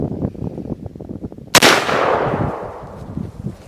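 One sharp, loud shot from a .357 Magnum carbine firing Remington 125 grain jacketed soft point rounds cracks out after a stretch of low background noise, then trails off in a long echoing decay.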